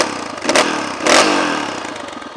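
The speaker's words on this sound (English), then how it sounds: "Titanium exhaust is sounding beautiful. God, I love this bike." A dirt bike with a titanium exhaust idles loudly up close. Two quick throttle blips lift it over a rough, burbling idle.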